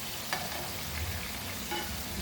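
Goan beef meatballs, traditional bolinhos de carne, fry in a pan with a continuous close sizzle and hiss, broken by faint stirring or turning sounds and no voices.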